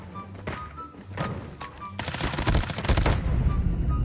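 Gunfire in Call of Duty, sharp cracking shots and thumps arriving in scattered bursts, with a dense rapid volley in the middle, against game background noise.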